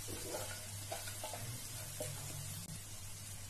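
Spice paste with Kashmiri red chili sautéing in a pan for spicy poha pulao, a steady close sizzle with a few soft stirring scrapes and a low hum underneath, no talking.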